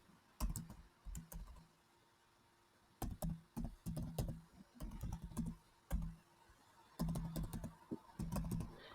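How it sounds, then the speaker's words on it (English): Bursts of typing on a computer keyboard while entering a profile in a resume builder, quick clustered key clicks separated by short pauses, close and fairly quiet with no talking. "And let's type GitHub over here"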